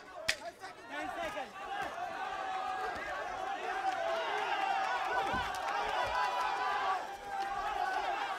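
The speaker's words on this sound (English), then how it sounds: "the crowd on their feet cheering towards the end of this one" Boxing arena crowd at the end of a four-round bout roars and cheers in a sustained wash of voices and shouts, fairly distant, with a sharp thump near the start and swells throughout.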